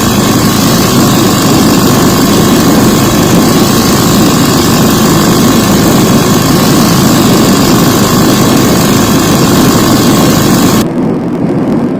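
A loud, droning motorbike engine driving a propeller runs continuously at close range, holding a steady pitch before cutting out abruptly near the end.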